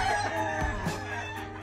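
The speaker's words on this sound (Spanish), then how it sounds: "Miren nomás que gallo." An Albany Roundhead Kelso rooster on a farm crows close by, a single drawn-out call over faint background sounds.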